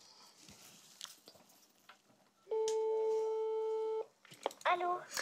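A telephone on a call to the Angoulême town hall gives one steady electronic ring tone lasting about a second and a half, clear and loud, between quieter room noise before and a voice that follows.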